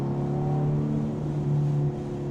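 Ferrari F430 F1 Spider engine heard from on board while driving, a steady low droning note that shifts pitch briefly as it downshifts, continuous and fairly loud with no talk.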